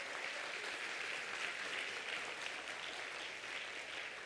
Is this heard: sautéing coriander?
no